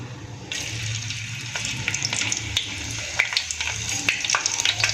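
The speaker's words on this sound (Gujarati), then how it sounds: "ત્યારબાદ એમાં આપણે ઝીણું સમારેલું લસણ એડ કરી દઈશું" Finely chopped garlic drops into hot oil that already holds a cinnamon stick and bay leaf, and a steady bright sizzle starts abruptly and keeps going, with occasional pops and crackles over a low background hum.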